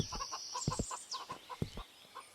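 Chickens cluck in quick, rhythmic bursts over a faint whistling tone in a video game, soft and steady with no talking.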